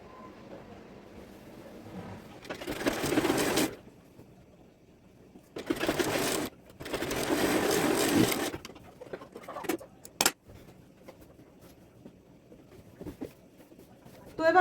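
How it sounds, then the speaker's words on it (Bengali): A sewing machine stitches the bottom hem of a petticoat in three or four fast runs of mechanical whirring, each lasting a second or two and separated by quiet pauses, with a few sharp clicks near the end. "এখন আমি পেটিকুটের নিচের মুড়ি সেলাই করব।"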